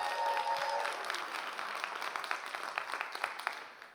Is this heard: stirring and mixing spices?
no